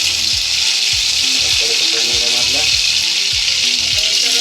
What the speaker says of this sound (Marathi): कढीपत्ता उड्या मारला थोडा